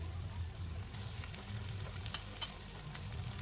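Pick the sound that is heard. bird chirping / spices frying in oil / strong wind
spices frying in oil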